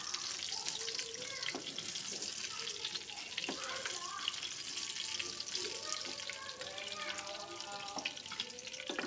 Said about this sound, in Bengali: আমি এখানে রুই মাছের পিস নিয়েছি, নুন হলুদ মাছে রেখেছিলাম, এগুলোকে একটু ভেজে নেব